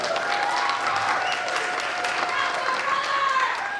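Audience at a college bluegrass concert applauding and cheering a banjo player, steady loud clapping with scattered whoops throughout, a voice speaking underneath.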